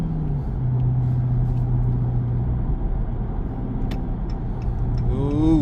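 A 2023 Chrysler 300C with a 6.4 HEMI V8 drives at night, its engine and exhaust droning steadily under acceleration from inside the cabin before a voice whoops at the end.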